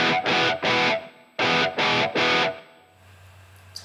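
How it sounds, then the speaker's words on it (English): A distorted electric guitar played through the chamber reverb of a Zoom multi-stomp pedal chugs in two groups of three loud, evenly spaced chords, then a low sustained note rings out into a fading reverb tail. "And this is the chamber reverb."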